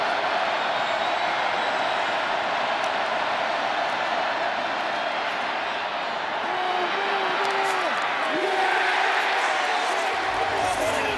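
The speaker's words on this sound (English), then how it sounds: "Crowd on their feet here at Acrisure." A college football crowd at Acrisure Stadium during NC State vs Pitt roars steadily on its feet ahead of a third down, a broad distant din under continuous commentator talk.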